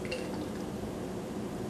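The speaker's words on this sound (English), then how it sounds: "So I added some water to that" Water poured into a flask holding a weighed sample of potassium hydrogen phthalate for a hydrochloric acid standardization, giving a steady soft trickling and splashing at low level throughout, with no talking.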